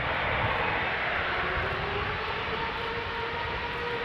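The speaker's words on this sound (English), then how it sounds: "It is a 777-200 going to New York, JFK." Jet engines of a 20-year-old Boeing 777-200 airliner at Schiphol's Polderbaan runway, a steady broadband roar holding constant and close throughout, with no talk.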